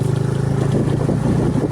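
A scooter engine hums steadily and close by while it is being ridden, with a continuous low drone and slight revving wobble throughout.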